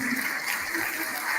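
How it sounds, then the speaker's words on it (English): Applause from a gala audience for award winners, a dense wash of many hands clapping that stays steady and fills the room, with no clear voices over it. "Let's give them a round of applause."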